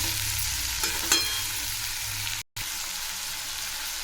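Mixed vegetables for a Sankranti bhogichi bhaji fry in oil with a steady close sizzle and a few stirring clicks, cut by a brief moment of silence midway.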